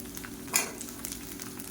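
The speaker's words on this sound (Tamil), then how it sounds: "பூண்டு வந்து நல்லா கோல்டன் கலரில் வதங்கணும்" Garlic fries to golden in a pan with a soft, even sizzle and a single light stir or clink partway through, faint and steady throughout.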